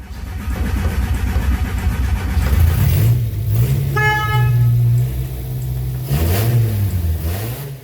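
Restored, long-abandoned Volkswagen Golf engine cranking over and catching, a loud rough churning that rises into revving, with a brief honk-like tone partway through and rising and falling engine pitch near the end.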